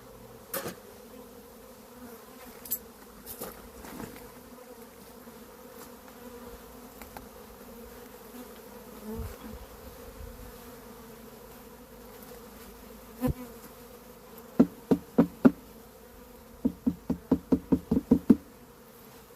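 Honey bees hum steadily around a hive fitted with robbing screens, a close, continuous drone under sharp wooden knocks and taps, with a burst of rapid clacking near the end.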